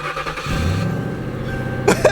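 A truck engine cranks and fails to catch, a loud churning starter rhythm that sputters and dies, followed by a couple of sharp bursts near the end.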